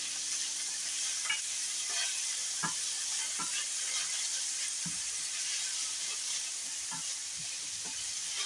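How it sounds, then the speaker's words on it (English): Frozen sweet corn fries in a pan with a constant loud sizzle, while a utensil stirs it in soft repeated scrapes and taps, and no one speaks. "you'll see the corn as it fries, it will take a little sheen onto it"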